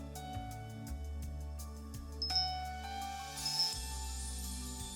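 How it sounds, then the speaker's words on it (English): Soft bell chimes ring in the video game Amaterasu Riddle Star, a few gentle dings and tinkles over a steady layered synth music bed, fairly quiet and without talk. "The sound of the bell is getting louder."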